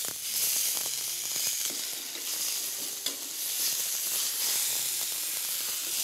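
Mushrooms and tofu browning in a frying pan give a steady, close sizzle with a constant hiss that runs alone and unbroken throughout.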